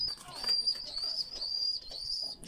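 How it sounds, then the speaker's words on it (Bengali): Desi pigeons feeding their chicks, heard as soft, continuous high-pitched squeaking and peeping from the begging young, close and steady throughout, with faint flutters and no talk. "এই যে খাওয়াইতেছে বাচ্চারা, কবুতর এইভাবে বাচ্চাগুলো খাওয়া"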